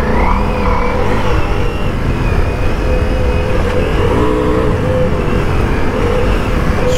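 A Ducati Multistrada V4 Rally motorcycle's V4 engine sends out a loud, steady, continuous drone with strong low rumble, broken only by small shifts in pitch as it holds its speed.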